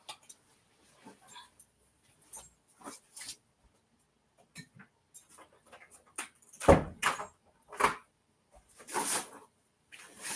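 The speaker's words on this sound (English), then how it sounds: "Let me close the door so I ain't telling everybody my business." Indoors in a small apartment complex, a door is pushed shut with a solid thump amid scattered light knocks and shuffling handling noises; moderately close, with no talk.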